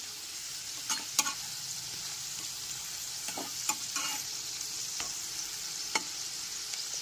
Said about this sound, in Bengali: দু থেকে 3 মিনিট ধরে গ্যাসের ফ্লেমটা মিডিয়ামে রেখে আলুগুলোকে এরকম লাল করে ভেজে নিতে